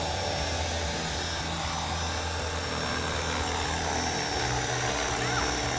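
A 450-size MD500E RC model helicopter with its rotor spun up to full throttle, a loud, steady close-up whine and beating drone holding for several seconds, shifting slightly in pitch near the end.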